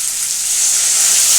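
Water poured into a hot pan (kadai) of green peas for a Bengali-style vegetarian aloo dum, giving a steady, close hissing sizzle that builds slightly and runs unbroken with no talk.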